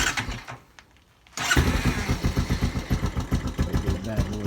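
A four-wheeler ATV engine with the choke on cranks and catches after a quiet moment, then settles into a loud, close, rapidly pulsing idle.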